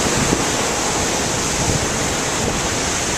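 Pacific Ocean surf rolling in on a cool, misty shore, a steady broadband wash of waves close by with some wind rumble on the microphone and no voices.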